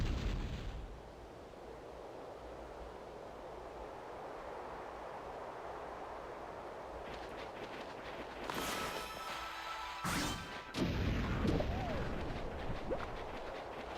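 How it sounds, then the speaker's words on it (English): Cannon fire in the video game Okami, a low rumbling blast followed by booming bursts and crackling impacts over a sustained roaring background. "we're doing more cannon stuff."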